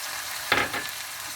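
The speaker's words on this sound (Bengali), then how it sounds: "ভাজা হয়ে গেছে, আমি এবার ক্যাপসিকামগুলো দিয়ে দিচ্ছি" Mixed vegetables with capsicum and peas fry in a pan, one brief sizzling stir burst standing out from a quiet background hiss.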